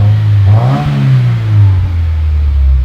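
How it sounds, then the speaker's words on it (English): A Subaru WRX with an FA20 engine and aftermarket exhaust revs once, rising to a loud, close burst and then settling back into a deep, steady idle drone. "Rev it up"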